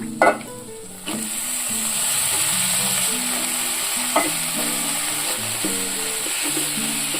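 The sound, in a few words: brinjal pieces frying with onions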